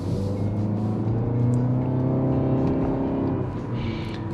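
Engine of a 2023 Nissan Altima with 182 horsepower accelerating, heard from inside the cabin as a steady droning hum whose harmonics rise gradually in pitch, sustained and fairly loud with no voices.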